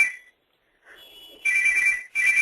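Electronic telephone ringtone trilling in the background of a presentation, one short burst followed by two longer steady rings after a pause, clear and fairly loud.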